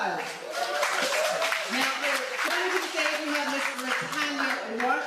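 An audience at a talk event claps for a speaker, a steady mass of applause with voices speaking and calling out on top of it the whole time.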